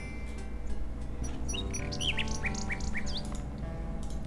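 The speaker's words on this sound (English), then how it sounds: "nightingale perches on a high branch of the tree. She sings the most beautiful song Alexander has ever heard." A nightingale sings in the video game King's Quest VI, a run of bright warbling chirps and whistled trills over soft looping game music, moderately loud with no talk.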